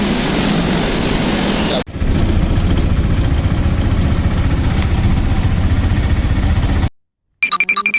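A loud auto rickshaw engine runs steadily for several seconds with a rattling, motorcycle-like drone, then cuts out briefly before more noise resumes; no talking.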